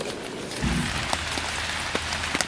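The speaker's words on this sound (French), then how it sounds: "mais il pleut" Steady rain falls outdoors during a cycling trip from Paris to Le Havre, a constant broadband hiss with scattered sharper drop taps, joined partway through by a low steady hum.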